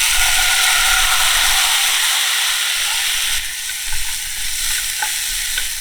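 A pan sizzles loudly and continuously as acid deglazes an au poivre sauce, a dense steady hiss with a slight drop partway through and a few soft pops and clinks.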